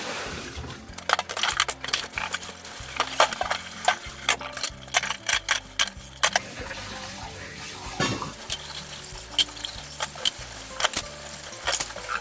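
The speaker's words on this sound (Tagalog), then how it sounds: "Hugas tayo ng pinggan" Dishes clatter and clink repeatedly in a sink over running water, with scattered sharp knocks of plates and utensils close by.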